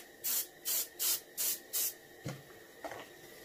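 Five short, even hisses of an aerosol spray can painting the fins of a reproduction Warmouth fishing lure, evenly spaced bursts up close, followed by a couple of faint knocks and rubbing sounds.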